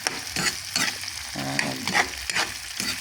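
Dried fish (tuyo) sautés in hot cooking oil, a steady crackling sizzle broken by repeated scraping stirs of the pan at a close distance.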